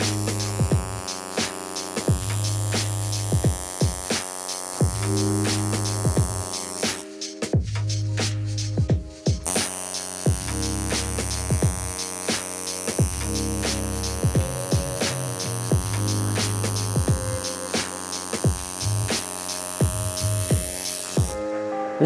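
A tattoo machine fitted with a loose size 5 needle buzzes with a steady electric hum that wavers in pitch, running close and continuous with only a brief drop partway through.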